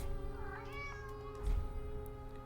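A cat meows several times in drawn-out, wavering cries over a low steady background hum.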